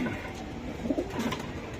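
Racing pigeons with pedigrees, kept at a seller's loft, give a few soft, low coos close by over a quiet background hum.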